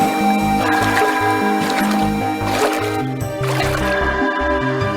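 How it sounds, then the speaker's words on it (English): Water in a self-made video game world, heard as a steady stream of wet dripping, gurgling and splashing tones layered over a repeating electronic music loop. "look at listen to the water"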